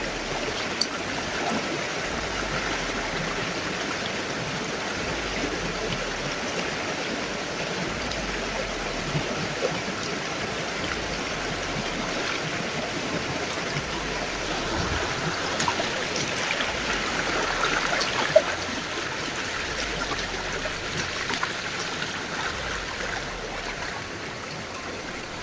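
Creek water flows in a steady, even rush with no breaks, a constant wash of broadband noise at moderate volume, heard close by.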